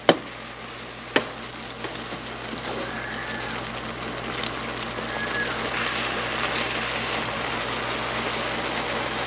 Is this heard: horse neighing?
no